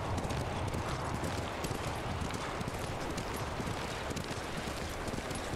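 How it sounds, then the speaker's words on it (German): Horse hooves clip-clopping steadily while riding in Ghost of Tsushima, a continuous dense rhythmic patter of hoofbeats with ambient game sound, moderately loud throughout. "Wir können eigentlich auch da unten lang reiten durch das Gebiet."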